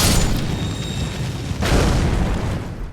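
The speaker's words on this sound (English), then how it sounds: "just be sure to dodge that explosion" An explosion in the Elden Ring game near Mistwood Ruins and Fort Haight: a sudden loud boom partway through, swelling into a rumbling blast over the steady game ambience.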